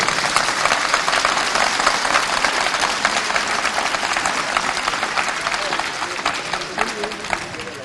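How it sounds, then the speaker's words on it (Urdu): Sustained applause from a large crowd, dense and steady clapping filling the whole stretch with some cheering mixed in. "آپ اپنے پیرنٹس کے لیے تالیاں بجائیں"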